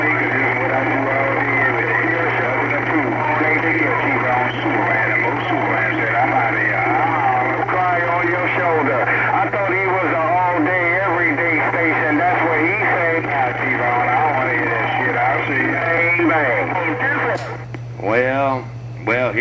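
Band-limited radio chatter with voices talking over a steady hum and static, continuous and loud, ending in a burst of squeal.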